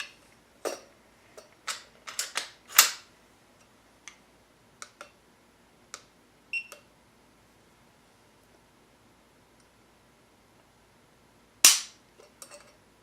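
A Sig Sauer P226 Legion single-action-only pistol is dry-fired during a trigger-pull test, giving sharp, close, isolated clicks and small handling taps separated by quiet gaps, with one stronger snap near the end.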